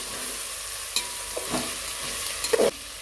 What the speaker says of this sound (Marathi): एक गाजर कट करून घेतलेलं, एक टोमॅटो, हे छान परतून घ्यायचं